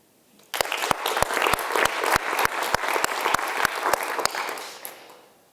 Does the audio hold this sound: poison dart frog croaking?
no